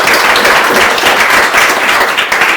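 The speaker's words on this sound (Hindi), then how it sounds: "ओके ओके ताली एक बार बढ़िया बजा" A loud, dense burst of clapping fills a classroom as the audience applauds together, continuous and close for a couple of seconds without talk.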